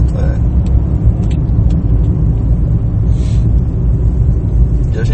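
Entry-level Ford Ka SE heard from inside while driving: a steady low engine and road rumble runs throughout at moderate loudness, with no one speaking over it.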